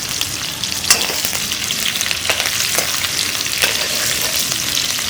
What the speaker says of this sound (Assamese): তেলখিনি গৰম হোৱাৰ লগে লগে আমি প্ৰথমতে ৰহুন আৰু জ্বালাখিনি দি দিছোঁ।